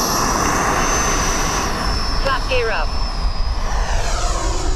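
An E-flite Viper RC ducted-fan jet takes off at half throttle with a steady, loud whooshing roar that holds throughout, while a brief spoken callout sounds over it.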